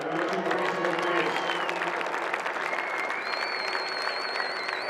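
Crowd at a 2021 ORFU 1st XV rugby final between Otago Boys and Southland Boys cheering and clapping, with dense, sustained applause and whistles filling the whole stretch and a high whistle tone near the end.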